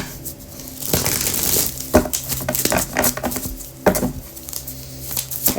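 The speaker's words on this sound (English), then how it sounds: "One more shuffle." Papery rustling and soft slapping of tarot cards being shuffled by hand, with irregular crisp bursts close up and no talking.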